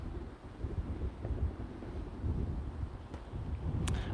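Gusty wind buffets an outdoor microphone with low rumbling surges that rise and fall irregularly, a couple of faint clicks near the end, and no voice over it.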